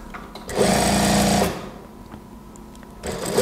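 A sewing machine stitches the body and sleeves of an A-line gamis dress, a close, loud mechanical whirr lasting about a second before stopping, followed by quieter handling and a brief restart at the end.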